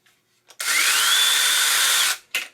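Sainlogic 6 inch battery mini chainsaw revving up, a sharp high whine held for about a second and a half before cutting off, then a brief second burst, near and alone.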